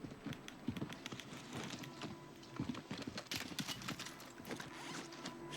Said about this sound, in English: Listen to his footsteps.